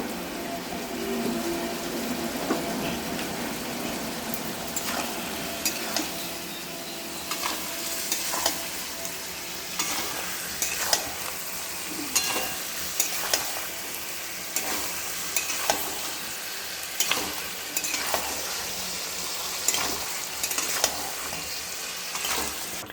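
A pointed gourd, yam and shrimp curry sizzles in a pan while a spoon scrapes and stirs it in irregular, repeated strokes over a constant soft frying hiss.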